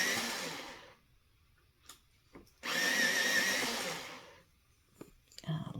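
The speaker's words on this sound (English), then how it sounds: "So let's just see if I sharpen it up." A Prismacolor Premier colored pencil in pale sage is sharpened in two whirring, grinding bursts, a shorter one first and then a longer, steadier one, close and fairly loud, with quiet gaps between.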